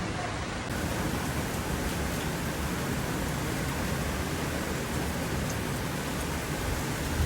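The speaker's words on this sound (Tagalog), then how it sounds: "Ulan! Rain!" Steady, dense rain hisses without a break at night, a broad even wash of noise with no voices.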